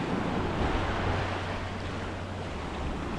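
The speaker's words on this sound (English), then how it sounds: "Ever ridden a dinghy through surf?" Surf roars loudly and steadily as a dinghy lands on a beach in Fiji's Mamanuca Islands, a dense wash of breaking waves mixed with wind buffeting the microphone.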